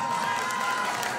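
A wedding ceremony crowd claps and cheers in a brief, dense burst of mixed applause and voices, fairly distant and steady.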